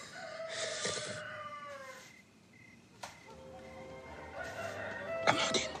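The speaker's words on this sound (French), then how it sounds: "entends le coq chanter" A rooster crows, a long loud cock-a-doodle-doo call repeated, close and clear, with faint clucking between the calls and no talk.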